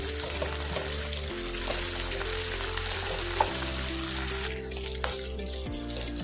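Capsicum and curry leaves frying in a pan make a dense, steady sizzle under sustained background music tones, with occasional light stirring taps; nobody talks.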